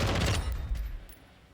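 A short burst of rapid gunfire from a weapon in Call of Duty Modern Warfare II, loud at first and then fading over about a second.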